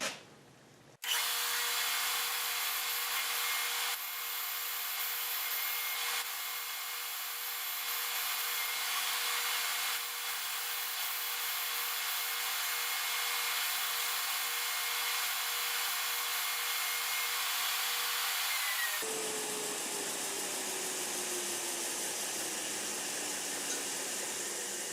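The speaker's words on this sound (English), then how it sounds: "next I sand it on my edge sander, just sanding it flush against the block" Edge sander running continuously as a wooden ring is sanded flush against a block, giving a loud steady whine with a smooth abrasive hiss, then a sharp change in tone as the machine winds down near the end.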